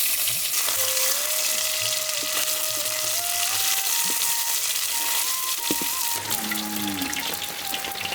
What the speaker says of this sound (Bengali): এই মাছের কাটা কম, রিহানের জন্য ভাজতেছি